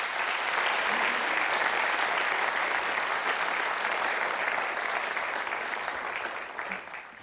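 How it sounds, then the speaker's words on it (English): Sustained, dense applause from an audience welcoming fellows and judges onstage at a democracy and technology entrepreneur program event, steady and full throughout before tapering slightly near the end. "Give them a round of applause"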